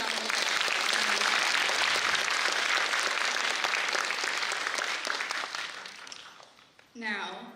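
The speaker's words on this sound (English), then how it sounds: "can everybody give her another huge round of applause?" A large audience bursts into dense, sustained applause after a solo Bharatanatyam arangetram dance debut, loud and steady before fading near the end, when a brief voice breaks through.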